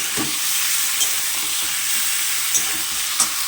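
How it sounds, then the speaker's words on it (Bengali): Chicken pieces with onion and potato being stirred and fried in a pan, a steady close sizzle with a few soft spatula knocks and scrapes, no voices. "মাংসগুলো দিয়ে ভালো করে, খুব ভালো করে নাড়বো, খুব ভালো করে এখন কষা হবে"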